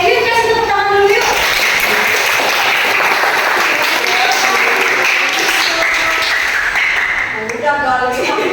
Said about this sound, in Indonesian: yuk kasih tepuk tangan dulu yuk